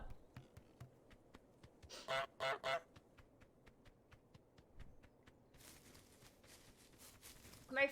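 Goose honks from Untitled Goose Game, a loud burst of three or four close honks in a row mid-clip and another honk at the end, over faint rhythmic footsteps and soft game background.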